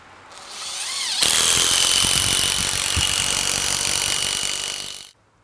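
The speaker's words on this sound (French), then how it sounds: "Donc on visse chaque panne et également le dernier rang du mur." Power drill or screwdriver driving screws through shed roof purlins into the wall during assembly of a lean-to garden shed, a loud close motor whine that spins up, runs steadily for several seconds, then stops.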